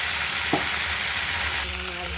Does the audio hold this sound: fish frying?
yes